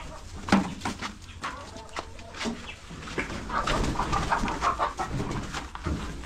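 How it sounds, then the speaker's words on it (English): Chickens in a backyard chicken coop give repeated clucks and short calls at close range, with faint human voices murmuring in the background. "welcome to my chicken coop"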